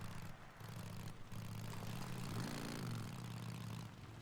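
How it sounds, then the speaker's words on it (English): A video game helicopter's steady droning engine with a thudding rotor pulse, fairly close and continuous, swelling slightly midway before easing off. "Sounds like a helicopter."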